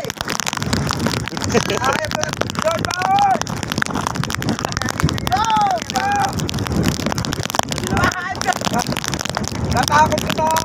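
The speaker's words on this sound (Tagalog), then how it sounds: "lumalakas na yung hangin tsaka ulan" Heavy wind buffets the microphone with rain noise beneath, roaring constantly at sea in the West Philippine Sea while a person shouts excitedly over it.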